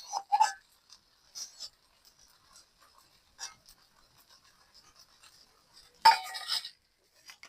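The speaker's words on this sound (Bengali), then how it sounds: "এবার আমি সুন্দর করে নাড়ি সাইডে একটু ঢাকা দিয়ে রাখবো।" A pot of traditional village-style rice is stirred and then covered with a lid, giving a few sparse metallic clinks and scrapes early on and a sharper clatter near the end, close by and fairly quiet.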